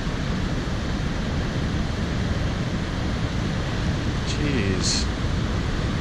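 Big ocean waves break against the rocks of the La Jolla bluffs near Seal Cove, a steady, loud roar of surf and wind that fills the whole scene while a person exclaims briefly over it.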